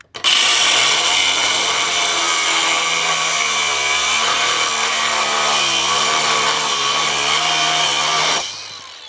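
An angle grinder cuts through material for solar carport footers at an off-grid barndominium build, a loud continuous whine with a wavering pitch as the disc bites, lasting about eight seconds before spinning down.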